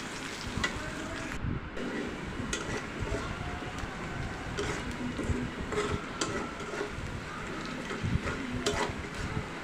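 Whole cardamom, cinnamon, cloves and bay leaf frying in oil with softened onion in a home kitchen, a faint, steady low sizzle with occasional soft stirring scrapes and no speech.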